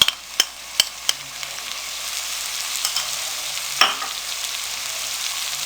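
Chili sauce hits a hot pan of noodle soup, giving a steady close sizzle and fry hiss with a few sharp clicks of a utensil against the pan and no talking.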